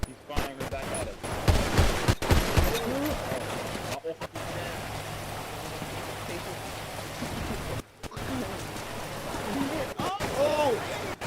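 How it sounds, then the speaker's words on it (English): Bursts of rapid gunfire ring out in a police academy training video game, a firefight in which shots come in clusters over dense, rain-like noise, with brief silent gaps. "He's firing back at us."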